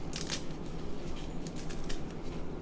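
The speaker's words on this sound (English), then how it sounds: "And then I can just tear that right into the bowl." Kale leaves are torn by hand into a bowl, giving soft, crisp ripping and rustling bursts in quick succession, close and fairly quiet, with no voices.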